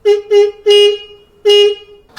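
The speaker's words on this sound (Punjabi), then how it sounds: "ਕਰਤੀ ਸਫਾਈ ਤੇ ਹੌਰਨ ਪਰਫੈਕਟਲੀ ਕੰਮ ਕਰ ਰਿਹਾ ਦੇਖੋ" A Royal Enfield Bullet 350 horn, freshly cleaned of carbon buildup, honks four times in quick bursts, loud and close, the last blast a bit longer, with no one speaking.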